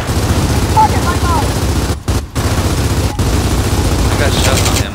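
Rapid bursts of gunfire from a team deathmatch shooter game on the Foundation map, dense and loud throughout with brief gaps, with players talking over it.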